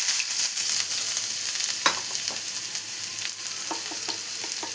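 Chopped shallots frying in coconut oil in a pan for a prawn curry, a loud continuous sizzle close by with occasional stirring scrapes.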